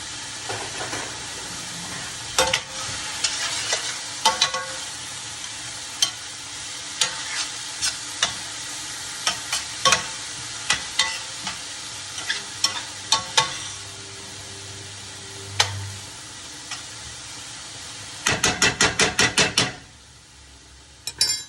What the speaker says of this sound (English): You want to let those sizzle for about 5 minutes.